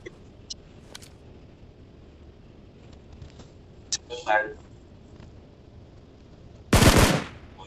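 Gunfire in the mobile battle royale game PUBG Mobile: a few faint distant shots early, then a short rattling burst midway and one loud close blast near the end, with a voice speaking over the game.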